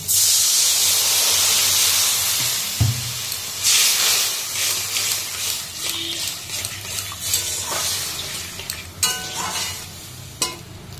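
Water hits a hot pan of frying chilli powder for a sour morala fish curry, bursting into a loud, steady hiss and sizzle that settles into softer bubbling with scattered stirring scrapes and clinks.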